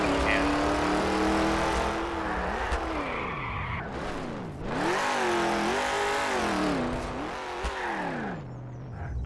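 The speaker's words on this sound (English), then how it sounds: "You hear the turbo sound?" A turbocharged car engine in the Gmod simfphys driving game revs up and down in repeated sweeping surges, loud and close, with a whining turbo tone riding over the rising and falling pitch.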